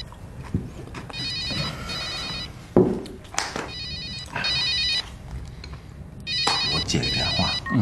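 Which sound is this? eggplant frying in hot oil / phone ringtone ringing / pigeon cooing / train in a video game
phone ringtone ringing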